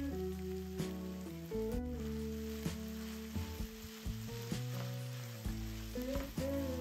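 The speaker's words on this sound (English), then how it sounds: "Add them to the pan with the pork and onions." Ingredients sizzle steadily in a pan with pork and onions, a continuous close frying hiss with occasional stirring scrapes and no talk.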